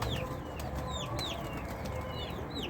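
Pigeons resting after a bath give short, repeated chirping calls over a steady, noisy background hum, moderately close.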